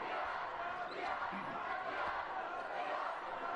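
A crowd roars through a high school sectional basketball game, Mt Vernon against Anderson. The cheering is a dense, steady wash of noise heard from within the gym.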